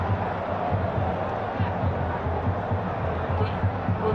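Football stadium crowd at a Fluminense vs Italy match in Manaus in 2014, a steady loud roar of many voices with a continuous murmuring swell throughout.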